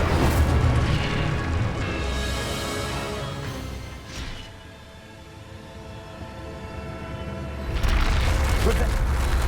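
Expelliarmus and Incendio spells are cast in Hogwarts Legacy. Heavy rumbling bursts and whooshes fill the opening seconds, a quieter swirling stretch follows, then another loud surge hits near the end.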